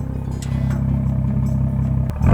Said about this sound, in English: The car is loud